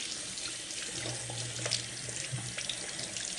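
A makeup sponge is rinsed under a running tap, steady hissing water pouring into a sink with faint squishing from handling, close and constant.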